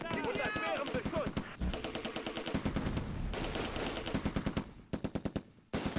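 Rapid bursts of .30 cal machine gun fire in the World War II tactical game Close Combat II, with loud rattling volleys and short pauses between them, and a voice talking over the opening moments.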